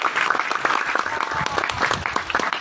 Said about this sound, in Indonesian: Kita berikan tepuk tangan kepada anak kita